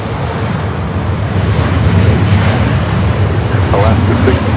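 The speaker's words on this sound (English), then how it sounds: "The Dreamliner just pushing back." A Boeing 787 Dreamliner airliner pushes back at LAX, heard as a loud, steady jet roar and rumble with wind buffeting, while someone talks over it.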